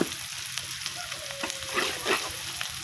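Onions and chili paste sizzle in a pan while being stirred, a steady close frying hiss with scraping stir strokes and a couple of louder surges, no talking; part of a freshwater rohu fish curry.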